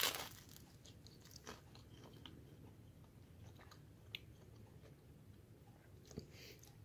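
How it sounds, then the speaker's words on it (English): Garlic toast topped with Irish stew is bitten and chewed up close, giving quiet, scattered crunches over soft mouth sounds. "Let's have a little bit of the garlic toast here. It's got some of the stew on it"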